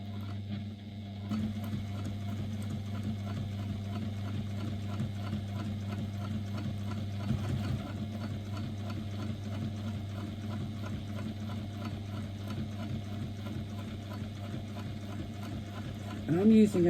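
Sewing machine running steadily while stitching faux leather with a similar coloured thread, a continuous mechanical hum with rapid needle ticking that holds for most of the stretch and stops near the end.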